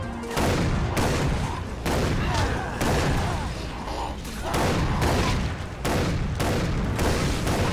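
Dense, continuous gunfire in a video game, with repeated booming blasts and shotgun-type shots overlapping for several seconds, loud and chaotic with no pauses.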